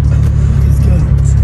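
A Honda EG car fitted with a Mitsubishi engine revving hard, a loud, dense engine roar held at high revs and close by for the whole moment.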